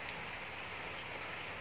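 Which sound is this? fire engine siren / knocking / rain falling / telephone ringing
rain falling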